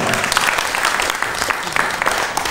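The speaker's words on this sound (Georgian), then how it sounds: "ეკუთვნის აპლოდისმენტები აუცილებლად" An audience at a Georgian poet's creative evening breaks into dense, loud applause, many hands clapping together in a continuous bright patter for the whole stretch.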